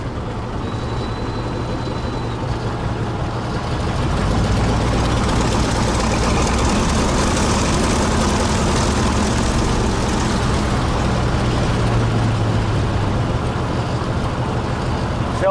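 A Fairchild 24W aircraft engine idling after parking, a steady low droning rumble that swells slightly a few seconds in and then holds constant, close and loud with no talk.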